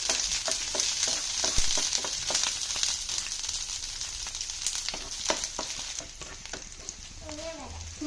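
Green chillies fry in a pan for an okra masala. A steady sizzle carries quick clicking stirs and light spatters, then eases off somewhat toward the end.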